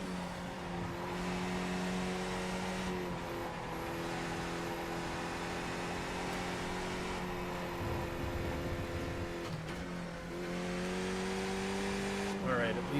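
Race car engine in the iRacing driving game, played in VR, holding a steady high whine that rises and drops through shifts over several seconds, sustained and fairly loud with no talk.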